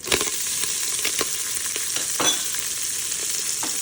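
Vegetables, onions among them, sizzle loudly in a hot Instant Pot after sausage has been browned, with a steady hiss broken by several sharp scrapes and stirs of a utensil across the pot bottom.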